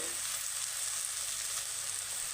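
Steady hiss of bread pakora frying in hot oil, a constant broadband sizzle with no talking, close and even throughout.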